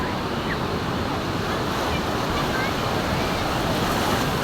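Big waves break on the rough sea at Kuakata beach, Bangladesh, a loud, constant close-up roar of surf mixed with gusting wind buffeting the microphone.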